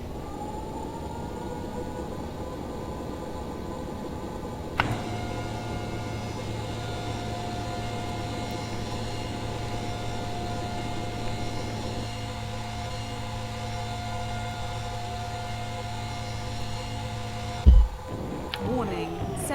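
Atmospheric entry during a Jupiter aerobraking pass in the Orbiter 2010 spaceflight simulator: a constant rushing hiss layered with steady humming tones, broken by a soft thump partway in and a sharper knock near the end.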